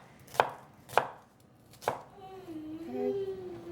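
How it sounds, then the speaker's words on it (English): A kitchen knife chops carrots and celery for a ham and vegetable soup: three sharp, close knocks on a cutting board with uneven gaps, then a faint thin tonal whine in the background. "And then just cut it a little bit smaller, nothing too precise."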